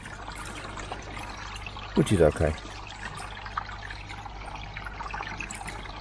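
Water trickles across the top of filter media as a steady, soft flow, with a brief louder splash midway and a voice speaking in the background.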